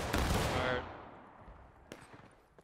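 A company volley of rifle fire in a VR multiplayer game lands as one loud, near crack that rings out and fades into a long echoing decay, with a single sharper report following near the end.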